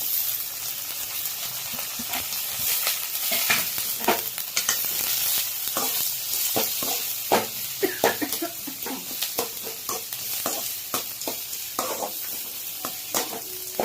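Onions and green chillies sauté in a pan for potato masala, a steady sizzle broken by frequent sharp scraping stirs and clinks of a spoon, close and prominent with no talk.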